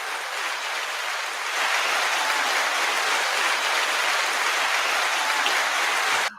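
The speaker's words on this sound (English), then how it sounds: "give a round of applause for Jonathan Thompson, aka JT The Voice." A crowd claps steadily for several seconds, the applause swelling a little louder partway through before cutting off abruptly.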